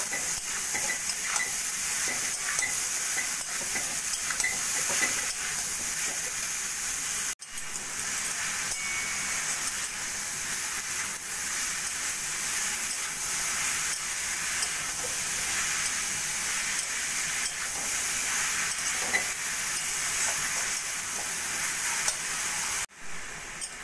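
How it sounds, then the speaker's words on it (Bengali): Grated papaya gets stirred with cooked spices in a pan, giving a steady hissing sizzle with soft scraping from a spatula, continuous and close, with two brief sudden breaks. "এবার দিয়ে দেবো আমি গ্রেট করে নেওয়া পেঁপেগুলো দিয়ে ভালো করে মশলার সঙ্গে মিশিয়ে নেব।"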